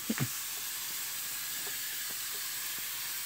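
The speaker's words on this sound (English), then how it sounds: "So I'll just go ahead and spray everything down a little bit here." A hand spray bottle mists a tray of microgreens, giving a couple of short squeezes at the start followed by a soft, steady hiss, quiet and close, with no voices.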